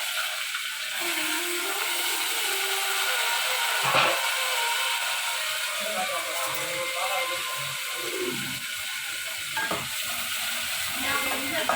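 Crushed garlic and small shallots sautéing in oil until golden, a continuous close sizzle with intermittent stirring and scraping strokes against the pan, and faint background sounds throughout.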